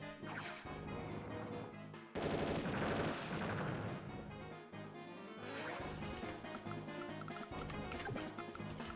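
Attack gunfire on an enemy tank in the Advance Wars Dual Strike video game, a dense, loud run of battle effects layered over game music, with a harder burst of crashing shots about two seconds in.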